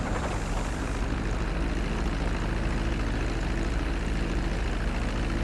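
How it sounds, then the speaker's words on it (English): A plane's engine in Grand Theft Auto V drones steadily as the aircraft descends toward the runway for landing, a loud, even roar that holds unbroken from start to finish, with no voices. "Start reducing the plane's altitude gradually so you're just above the runway as you approach."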